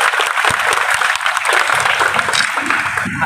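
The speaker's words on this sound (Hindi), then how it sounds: "विनय तिवारी जी का जोरदार तालियों से स्वागत करते हैं" A crowd welcomes a police superintendent with sustained, dense applause, loud and close, steady throughout with no gaps.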